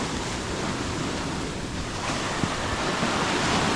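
Ocean waves and surf making a steady, loud broadband roar, close by with a little wind noise mixed in and no talk.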